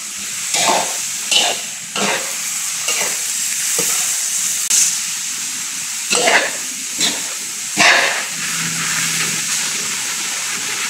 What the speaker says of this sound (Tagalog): Ibagsak natin itong baboy para maluto.